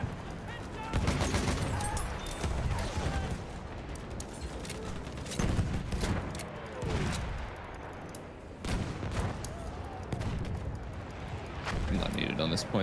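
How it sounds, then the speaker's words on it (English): Battlefield 1 combat near a land ship: rapid gunfire bursts and repeated heavy explosions in a loud, chaotic mix, with a voice talking over the battle. "All the explosives going off."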